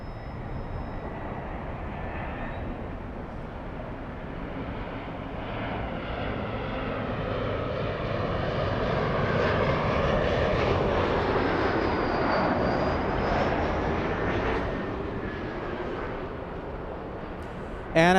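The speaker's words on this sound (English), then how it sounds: "The one lining up, we have a little E-175 flying to Bozeman, Montana." A SkyWest Embraer E-175 regional jet takes off for Bozeman, Montana, its broad engine roar building steadily and holding loud across the whole stretch, a continuous rumbling wash with faint rising whine, no talk over it.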